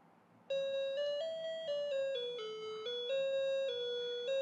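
A 90s handheld video game console plays a bright electronic beeping melody, a sequence of clear stepped tones beginning abruptly and continuing steadily and fairly loud.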